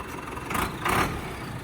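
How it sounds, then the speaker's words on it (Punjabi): A Sonalika 65hp CRDI tractor engine with a turbo running nearby, a steady diesel rumble that swells briefly twice as it is revved. "ਟਰਬੋ ਦੀ ਆਵਾਜ਼ ਦਾ ਸਭ ਪਤਾ ਲੱਗ ਵੀ ਟਰਬੋ ਲੱਗੀ ਹੋਈ ਹੈ"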